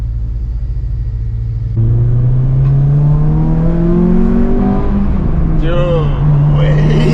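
A Nissan 240SX with an SR20 engine and RSX Type S exhaust idles, then revs and accelerates steadily on a test drive, a loud, close, droning exhaust note rising in pitch, with a brief voice near the end.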